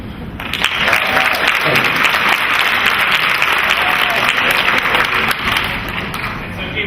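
An audience at a healthcare innovation conference breaks into loud, sustained applause right after a short pitch, the clapping swelling quickly and holding as a thick, steady roar of hands.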